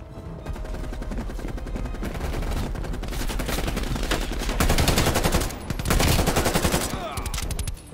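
Rapid bursts of automatic gunfire and single shots from Call of Duty Black Ops Cold War, loud and dense with brief pauses, layered over game sounds.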